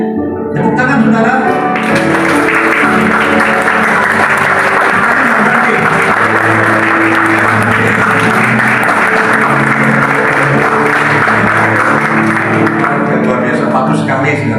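Sustained, loud applause fills a wedding ceremony in a church congregation, a dense wash of clapping from many people lasting the whole stretch, with voices mixed in beneath it.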